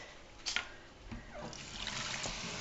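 Cold water from a kitchen tap running over food in a pan during Hungarian stuffed cabbage cooking, a faint steady trickle and splash throughout.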